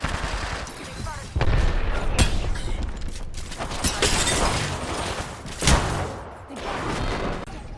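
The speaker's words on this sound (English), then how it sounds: "Look out, grenade." A frag grenade detonates in a shooter video game amid steady gunfire, with sharp cracks, shattering bursts and a standout blast near the end, all dense and loud under faint voices.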